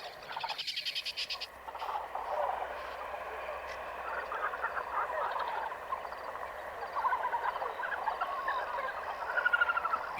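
A group of helmeted guinea fowl passing through an African lion habitat, calling in a continuous chattering, rattling chorus at moderate distance.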